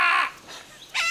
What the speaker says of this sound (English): Every time you say anything which could be considered mildly provocative by a parrot, you can hear it from next door.